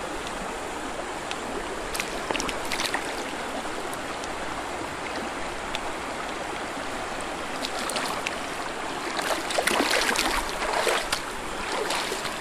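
Rushing icy stream water sloshes and splashes steadily, with irregular sharper splashes as someone in boots wades through it.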